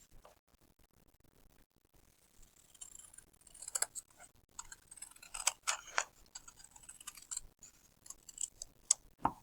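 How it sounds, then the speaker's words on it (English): Repeated quiet snipping of scissors through paper, close by, in an irregular series of small crisp cuts. "I can now take my scissors and cut on my line"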